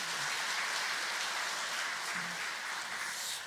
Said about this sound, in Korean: 우리 여전도의 모든 분들에게 격려의 박수 한번 함께 보내드리면 좋겠습니다